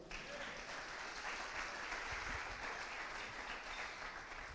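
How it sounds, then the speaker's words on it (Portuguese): A church congregation applauds the Lord, a soft, even wash of clapping that sounds distant and faint, continuing steadily without any voices. "Aplauda o Senhor."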